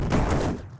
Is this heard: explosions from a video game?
yes